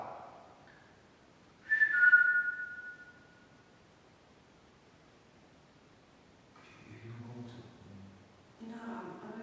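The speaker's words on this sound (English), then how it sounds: "If I whistle, can you whistle back?" A short human whistle rings out once, clear and fairly close, during a night investigation in an old ladies' hospital, followed by quiet and then brief bits of talking.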